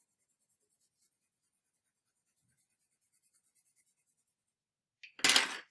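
Prismacolor colored pencil burnished across paper, a soft, rhythmic scratchy stroking repeated in quick faint passes, followed by a brief louder rustle at the end.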